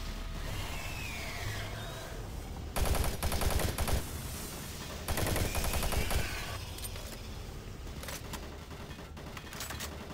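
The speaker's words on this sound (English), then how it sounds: "Warning, automated turret guns online." In Doom 3, automated turret guns let loose two dense bursts of rapid fire over a low, droning industrial ambience that hums on between the volleys.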